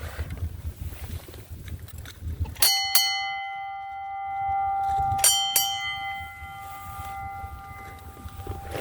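A ship's bell is rung as a fog signal aboard a cruising sailboat off Saturna Island. Two clear double strikes ring out several seconds apart, each leaving a long, bright, sustained ring over steady water and engine rumble.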